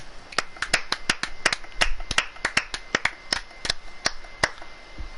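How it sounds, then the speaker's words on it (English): Sparse, sharp handclaps at a rugby league match in Austria, a few people clapping in an irregular patter of distinct, close slaps against faint background noise, with no talking. "Can you have a round of applause for Ghost Schmidt?"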